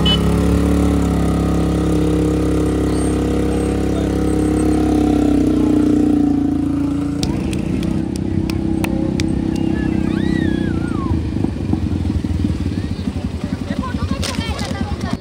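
A motorcycle engine drones steadily during a bike ride, its tone shifting about halfway through and then continuing with a rougher, fluttering note, with faint voices in the background.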